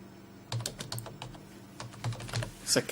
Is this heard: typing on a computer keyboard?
yes